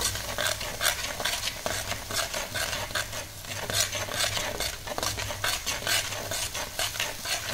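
Plum and date chutney simmers in a pan while a spoon stirs it, giving steady scraping strokes over a soft bubbling sizzle, close and continuous, with no voices.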